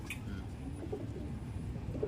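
A racing pigeon of the Janssen line coos softly, faint low murmurs over a quiet room background.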